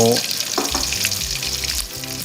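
Salted fish frying in hot oil, turned to cook both sides, a steady loud sizzle with a few soft knocks, alongside low musical tones and no voices.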